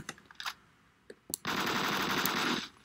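Groza rifle in the Phantom Forces shooter game firing one sustained rapid automatic burst of about a second after a few scattered clicks, close and fairly loud, with no talking.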